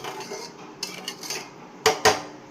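Rice poured into a pot of half-cooked dal for khichuri gives soft rattling and scraping, then two sharp metallic clinks of a utensil against the pot.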